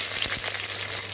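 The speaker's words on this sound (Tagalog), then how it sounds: "you need to saute your garlic first" Garlic sautés in a hot pan for laksa, a close, steady sizzle and crackle with a few soft stirring scrapes and no talk.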